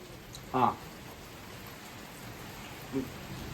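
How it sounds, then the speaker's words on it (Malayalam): Heavy rain during a storm in Malappuram, a steady hiss of falling rain throughout, with two brief louder sounds breaking through. "ശരിക്കും ഈ മഴ എല്ലായിടത്തും ഉണ്ടാ"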